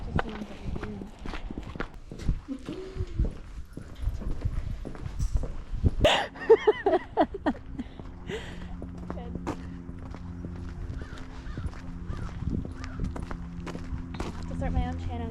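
Horses walk at a riding lesson, hooves clip-clopping in a steady, close rhythm over a stable yard, under ongoing conversation, with scuffs and a low engine-like hum joining midway.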